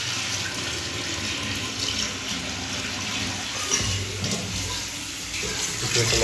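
Household rice rinsed under a running kitchen tap, a steady broadband wash of flowing water splashing into a bowl or sink, continuous and fairly close, with no voices.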